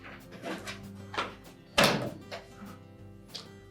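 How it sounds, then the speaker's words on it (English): A plastic dispenser drawer on a Frigidaire washer is tilted back and pulled free, giving a sharp hollow clunk midway, with lighter plastic clicks and rattles before and after, close by and alone. "We simply need to depress those tabs while tilting backward on that dispenser drawer itself."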